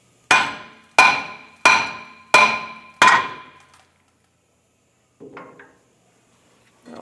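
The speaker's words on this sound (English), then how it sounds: "before I take a hammer to it, I'm just going to put a lug nut back on" Five evenly spaced ringing metallic hammer blows strike a stuck front brake rotor on a 2012-2018 Nissan Altima, loud and close, followed after a pause by a couple of softer clanks.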